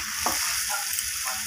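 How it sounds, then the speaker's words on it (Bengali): Chicken sautéed in a pan with ginger and garlic paste gives a steady, close sizzle of frying, with a few soft stirring scrapes and no voices. "আমি চিকেনটাকে আবারও ভালোভাবে কষিয়ে"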